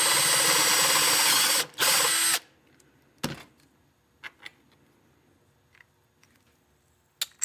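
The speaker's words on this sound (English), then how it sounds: "I just keep drilling with the step bit" A step bit drills loudly and steadily through a guitar pedal foot-switch enclosure for about two seconds, briefly pausing, then stops, followed by a few scattered clicks and taps.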